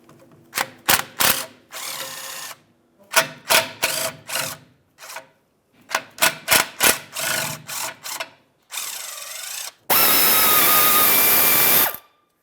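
Power ratchet with a 10mm socket backing out oil pan bolts on a 2005-2010 Dodge Dakota with the 4.7L V8, heard as loud repeated bursts of clicking whir in groups, ending in a longer steady run.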